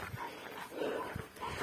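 A Kangal dog whimpering and yipping in short, faint bursts, heard close by with low, restless breathy sounds in between.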